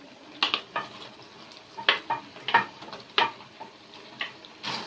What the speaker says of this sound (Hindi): अब हम इसमें ऐड करेंगे पास्ता